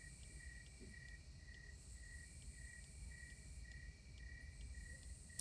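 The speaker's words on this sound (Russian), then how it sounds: "Я слышу сверчков, а это значит, что до сих пор еще ночь." Crickets chirp at night in the village setting of the video game 35MM, a steady run of rhythmic, evenly spaced chirps held over a low background rumble, with no talking.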